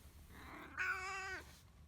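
A cat gives a single clear, drawn-out meow with a short softer lead-in, heard close and alone against a quiet garage background.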